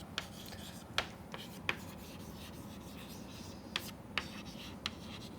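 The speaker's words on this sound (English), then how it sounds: "I will write it here." Chalk or marker writing on a classroom board, a steady soft rubbing scratch broken by several sharp taps as strokes start, close and moderately quiet with no talk over it.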